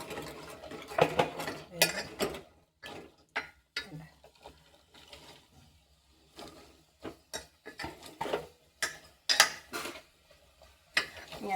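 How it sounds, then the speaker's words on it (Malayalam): Green chillies and round chillies being stirred in a pot, with a utensil clinking and scraping against the metal in irregular bursts, close and fairly quiet. "നമ്മളൊന്ന് ഇളക്കി കൊടുക്കണം"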